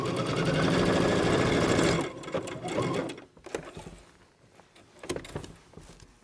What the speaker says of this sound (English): We're going to stitch a 5/8 inch seam.